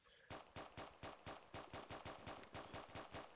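Rapid, steady bursts of automatic gunfire in Roblox Prison Life, a dozen evenly spaced shots in quick rhythm, loud and close with no talking.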